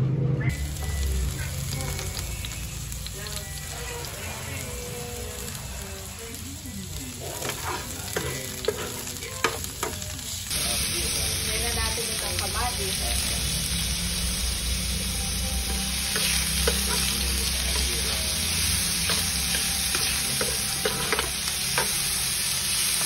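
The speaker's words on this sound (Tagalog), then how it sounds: "Nilagay na rin po itong itlog. At nilalagay na itong ating main dish, ang ampalaya." Ampalaya and egg stir-frying in a pan make a steady loud sizzle with scraping stirring strokes throughout, the hiss briefly intensifying midway as ingredients are added.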